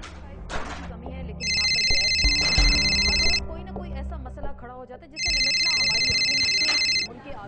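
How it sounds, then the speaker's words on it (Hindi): An incoming call sets a telephone ringing in two long, loud, close electronic bursts separated by a short pause, with quieter room sounds underneath. "शौकत आसिफ को फोन करके अपने बेटों की सामान उठाने के लिए घर आमद की इत्तला देता है।"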